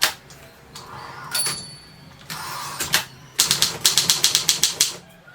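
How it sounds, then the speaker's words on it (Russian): A Triumph Durabel manual typewriter being worked, with a few scattered clicks, then the ratcheting carriage line-spacing lever and a fast, regular run of sharp mechanical snaps, close and loud with no talk. "На каретке интервальный рычаг для перевода строки."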